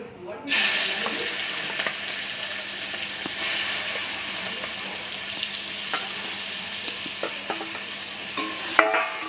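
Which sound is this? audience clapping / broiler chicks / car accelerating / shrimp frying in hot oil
shrimp frying in hot oil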